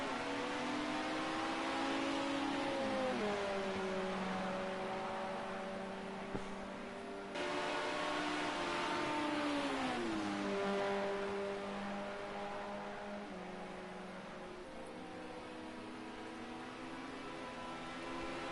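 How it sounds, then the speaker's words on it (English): GT4 race cars roar around Spa in an endurance race, engines droning steadily with whining harmonic pitches that rise and dip through gear changes and corners, continuous and moderately loud. "There's the yellow car now, flips his way out and zooms away"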